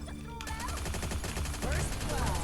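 Rapid automatic gunfire in Free Fire, dense bursts of shots layered over game music, close and steady, growing louder partway through.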